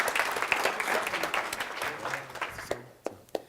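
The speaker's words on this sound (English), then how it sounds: "Just give James a nice round of applause in the meantime," An audience gives a round of applause at a hypnosis seminar, a dense patter of clapping filling most of the stretch and then thinning to a few scattered claps near the end.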